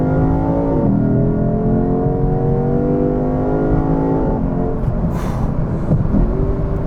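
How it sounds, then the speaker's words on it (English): A deep V8 engine of a 2022 Lexus IS500 sport sedan revs and climbs through the gears, a loud, continuous rumbling roar heard from inside the car, with rising and falling pitch. "That is an engine note. It sounds fantastic, even inside the car."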